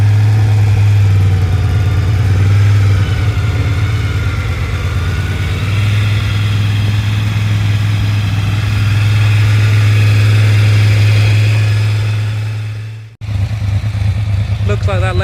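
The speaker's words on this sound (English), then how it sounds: "It's got a happier sounding idle now." A 1986 Honda VFR 750 F motorcycle engine idles close up with a steady low throb, then cuts out briefly and restarts near the end.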